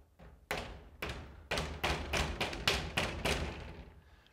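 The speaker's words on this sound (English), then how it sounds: "you're going to take it and just give it a light tap with your mallet" A mallet gives light taps to seat a Table Rock Series swing door onto its magnet: about nine sharp wooden knocks, loosely spaced at first then quicker, close and clear with no speech.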